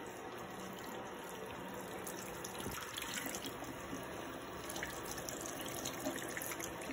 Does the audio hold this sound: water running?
yes